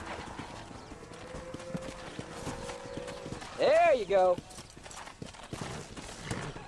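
Steady hoof clip-clop from a horse walking in the video game Red Dead Redemption, continuing throughout, with someone briefly speaking partway through and a short whinny-like vocal burst.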